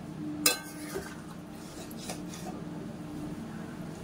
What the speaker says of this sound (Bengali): এটা এবার নেড়ে দেবো।